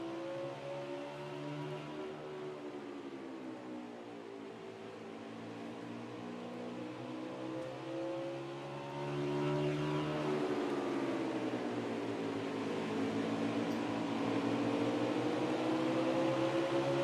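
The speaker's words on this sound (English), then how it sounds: "Let's take a ride and just listen to the 4 car as he rolls through these corners here." A number 4 race car in a Warranty Cup Series 250 at Bristol Motor Speedway drones through the corners, its engine note smoothly falling and rising as the driver lifts off and gets back on the throttle, loud and continuous.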